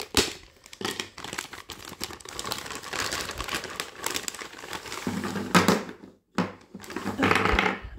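Plastic packaging around a 25 by 25 cm Q-Snap cross stitch frame crinkles and rustles up close in irregular bursts, with tearing and crumpling sounds and one short pause, no talking over it.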